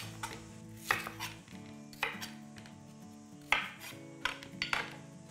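Knife on a cutting board topping and tailing taputini kumara sweet potatoes, a series of irregular sharp chops and knocks spaced about a second apart, close and fairly clear with no talking.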